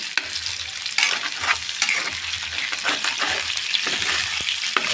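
Garlic sizzles briskly in hot oil in a pan, a loud steady crackle broken by frequent scraping and knocking as it is stirred, over a faint low hum, without any voices.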